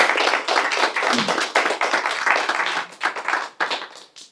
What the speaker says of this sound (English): I'd love to just give them a round of applause for coming and sharing.